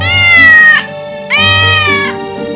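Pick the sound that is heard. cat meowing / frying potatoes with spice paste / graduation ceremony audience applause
cat meowing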